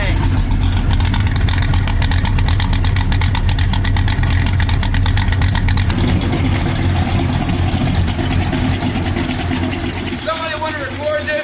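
A 1967 Ford Mustang's small-block V8 rumbles at idle, a steady loud throb that runs throughout, with a brief shift in tone partway and a voice speaking over it near the end.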